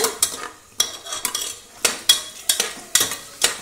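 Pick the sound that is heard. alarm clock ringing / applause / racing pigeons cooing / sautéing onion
sautéing onion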